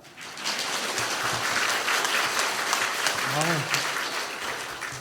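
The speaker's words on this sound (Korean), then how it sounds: "박수합시다." Audience applause fills a church during a Korean Methodist revival service: a dense, steady clatter of many hands that starts abruptly and holds for several seconds, with a voice briefly rising over it.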